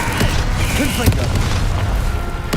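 A Confringo fire spell blast in Hogwarts Legacy, a booming burst with a crackling whoosh amid continuous battle noise, loud and close, with a voice calling out over it.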